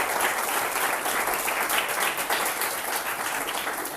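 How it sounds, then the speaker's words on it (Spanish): Steady applause from a lecture audience honoring Alejandro at an economics class, dense clapping holding at an even level for the full stretch with no one speaking. "Venga, un aplauso a Alejandro."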